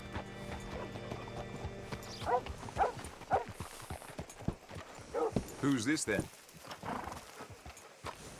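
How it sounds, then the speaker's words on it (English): A horse in the video game Red Dead Redemption 2 is hitched up, with a run of hoof clip-clops and a whinny under close conversation between people. "Hitch your horse up here."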